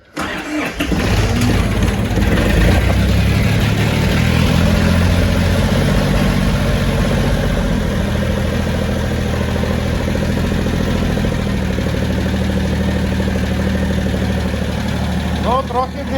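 A diesel engine on a mini tractor runs hard at full throttle, a loud, steady low rumble that holds for the whole stretch after a brief start-up.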